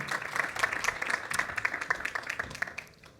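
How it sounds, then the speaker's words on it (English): An audience applauds two speakers, artist and collector, at the start of a digital art conversation event; steady clapping fills the clip at moderate level, with a faint voice in the mix. "Let's give them a big round of applause and enjoy the conversation."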